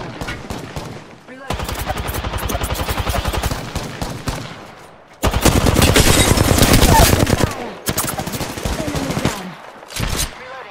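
Sustained bursts of automatic gunfire in the battle-royale game Apex Legends, loud and close, several long rapid-fire volleys separated by short pauses.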